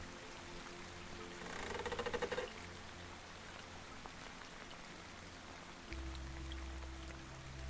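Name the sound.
rain and distant water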